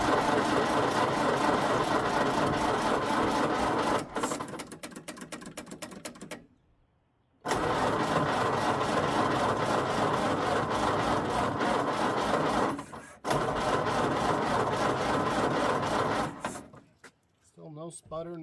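A roadster's engine cranks repeatedly without starting, a steady close mechanical whirring broken by a short silence and a few pauses, with people talking nearby.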